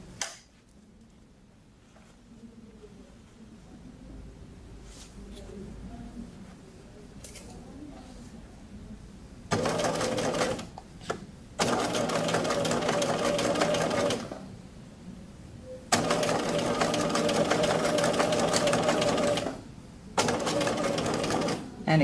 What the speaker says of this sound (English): we're going to stitch this right at the edge of the fold